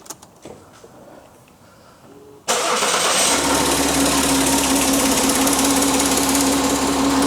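A Citroën C6 engine cranks briefly and fires up, settling into a loud, steady close idle with a persistent whine and rattly texture; no talking over it.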